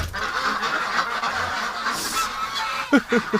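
Ducks kept in a pen in winter give a low background of shuffling noise, then a short burst of three or four nasal, honking quacks near the end, close by and fairly loud.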